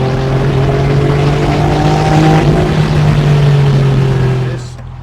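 A 1996 Porsche 911 993 Turbo GT2 accelerating hard in third gear through an on-ramp, heard from inside the car, a loud steady engine drone that rises slightly in pitch and then eases off at the end.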